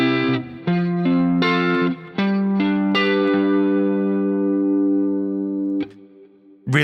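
A tense fifth chord from a beginner chord progression, struck and re-struck several times in a rhythmic pattern with a processed, chorused and slightly distorted tone before ringing out and fading, with no talking.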